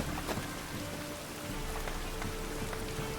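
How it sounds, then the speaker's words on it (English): Steady rain falls on surfaces in a city street in The Witcher 3, a dense, even patter of drops with scattered louder splashes, heard alone without talking. "And it's raining again."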